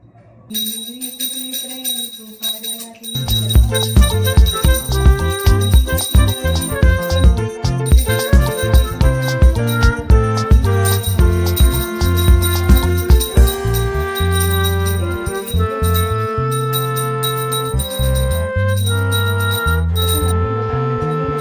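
Repeated metallic strikes of a prayer bell during Navratri home worship ring out steadily and loudly over a dense, ringing musical backdrop after a quiet opening few seconds.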